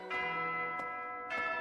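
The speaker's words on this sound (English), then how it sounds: "I love the bells. The bells are so good." Bells ringing in the video game Fire Emblem: Three Houses, a bright sustained chime with three distinct strikes about half a second apart, each ringing on into the next, close and clear with no voices.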